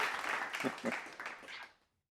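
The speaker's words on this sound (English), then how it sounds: "Round of applause." A small podcast audience gives a brief round of applause to welcome guest Rick Olderman, quiet scattered clapping mixed with voices that fades out within about two seconds.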